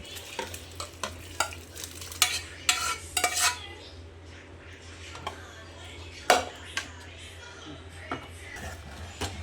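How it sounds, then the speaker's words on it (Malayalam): Beef curry masala is stirred and mixed in a frying pan: repeated scraping strokes of a spatula against the pan at an irregular rhythm, over a low sizzle, close and moderately loud. "ഇനി എല്ലാ മസാലകളും എല്ലാം നന്നായിട്ട് യോജിപ്പിക്കാം."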